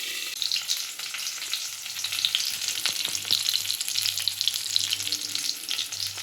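Tilapia fish fry in a pan with a steady, close sizzle and fine crackling pops, constant and unbroken with no voices.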